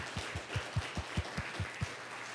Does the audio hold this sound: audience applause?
yes